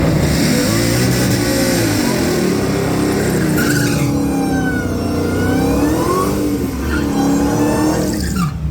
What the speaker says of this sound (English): look at my burnout for the yellow Mustang race